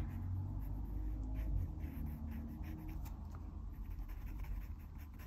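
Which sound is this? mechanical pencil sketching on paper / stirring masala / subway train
mechanical pencil sketching on paper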